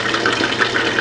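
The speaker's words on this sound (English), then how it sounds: "one thing to note is the sound that comes off of your frying" Chicken feet deep frying in hot oil, a dense steady sizzling hiss with fine bubbling crackle, close and loud throughout the short stretch.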